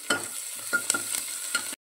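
Ginger garlic paste stirred into a hot frying pan for masala rice gives a few quick scraping, sizzling strokes, about four close bursts in under two seconds, ending abruptly.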